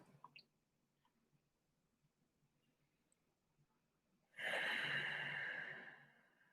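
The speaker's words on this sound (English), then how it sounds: "Deep breath." One long, loud deep breath taken near the microphone during a live full moon group meditation, rising abruptly after a few seconds of near silence and holding for about two seconds.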